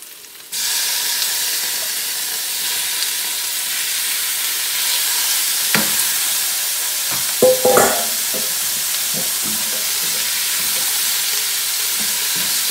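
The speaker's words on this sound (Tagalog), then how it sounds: "lagay natin yung ating slice ng chicken at saka yung shrimp" Sliced chicken and shrimp frying in a pan for brown fried rice, a loud steady sizzle that starts suddenly and holds throughout, with a few clattering stirs near the middle and no talking.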